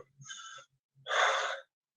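A person demonstrates anxious breathing: a softer breath followed by a longer, heavier exhale, close and alone in a quiet room.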